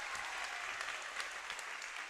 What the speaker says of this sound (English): Claps and cheers ring out from the Bethany side of the gymnasium